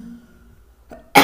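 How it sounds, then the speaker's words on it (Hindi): A single sharp cough bursts out after a brief, quiet pause, loud and close, in an otherwise quiet indoor room during a maths lesson. "यहाँ पर थोड़ा सा ठंडी है इसीलिए खांसी हो रहा"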